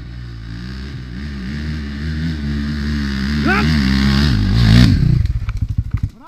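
An enduro motorcycle on a trail revs loud and close, its engine note climbing and straining before dropping away into a slowing, throbbing putter.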